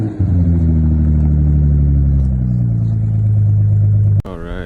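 A Nissan 300ZX Z32 driven fast, its engine droning loud and close with a steady tone that slowly falls. The sound cuts off sharply near the end as a different sound takes over.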